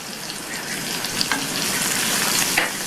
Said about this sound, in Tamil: இந்த பூண்டு நல்லா எண்ணெயிலேயே வதங்கி வாசனை வரும்